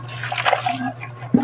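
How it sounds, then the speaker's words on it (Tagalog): Water splashes and sloshes while dishes are washed by hand in a kitchen, in short uneven bursts over a low steady hum, ending with a louder splash. "ikaw pang maghuhugas ng plato"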